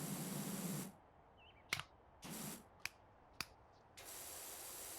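A pressure washer hoses down a chair in the video game PowerWash Simulator, heard as three bursts of loud, hissing spray with short gaps between them and a few sharp clicks in the pauses.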